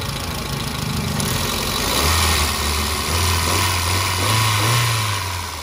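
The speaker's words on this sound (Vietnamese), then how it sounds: "Máy móc của chiếc xe khá là ổn định luôn anh em nhé." A 2009 Hyundai Getz with a manual gearbox idles steadily nearby, giving a smooth, even low drone that swells slightly partway through. No one speaks.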